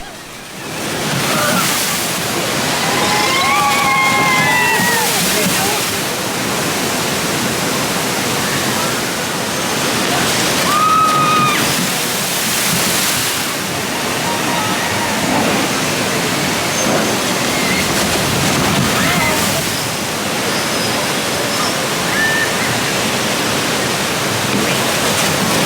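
Rushing water pours and splashes continuously on Dudley Do-Right's Ripsaw Falls flume ride at Universal's Islands of Adventure in Orlando, a broad loud roar with wind buffeting and occasional voices and shrieks mixed in.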